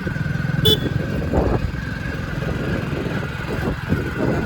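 A vehicle pulls away on a rural trip to a roadside tea stall, its engine rumbling close and steady with slight surges in revs throughout and no speech.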